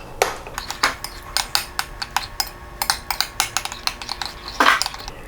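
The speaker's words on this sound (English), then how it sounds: "Mix well and set aside." A utensil stirs In-N-Out spread sauce of mayo, ketchup, mustard, sweet relish, onion powder and vinegar in a bowl, with a quick run of close clinks and scrapes in an irregular rhythm.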